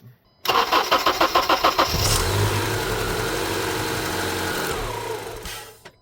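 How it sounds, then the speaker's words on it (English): Honda CR-V engine, just after a fuel injector replacement, cranks with a rapid rhythmic starter chug for about a second and a half, then catches and settles into a steady, close, loud idle that runs on alone. "And now we're good to start the car up."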